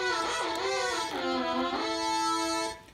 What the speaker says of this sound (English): Here we have some chorus.